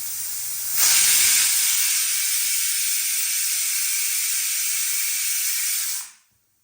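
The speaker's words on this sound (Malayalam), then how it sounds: "കുക്കർ വിസിലടിച്ച് വെജിറ്റബിൾസ് ഒക്കെ കുക്കായിട്ടുണ്ട്" Pressure cooker with vegetables for Kerala sambar releasing steam, a sudden loud hiss that holds steady for about five seconds, then cuts off abruptly into silence.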